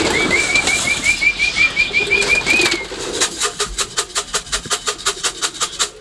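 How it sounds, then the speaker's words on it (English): A person whistles a repeated warbling call to summon roller pigeons to feed, a fast chain of bright chirps for about three seconds, followed by a burst of rapid wing flapping as the birds come down. "The whistle you just heard, that means feeding time."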